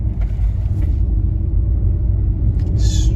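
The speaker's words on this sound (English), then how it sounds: "Struggling up this hill." A Nissan Juke's engine struggles up a hill, a steady low rumble with a strained, droning tone heard from inside the car, and a faint clicking noise near the end.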